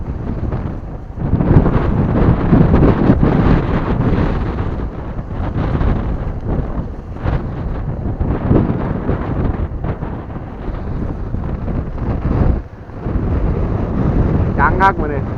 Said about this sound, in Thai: พายุฤดูร้อนครับ